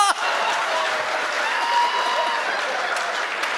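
An audience at a Hindi comic poetry gathering claps in a sustained burst of applause lasting a few seconds, with faint chuckles mixed in.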